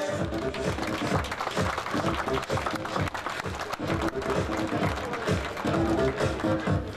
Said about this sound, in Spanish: Un aplauso para Guille.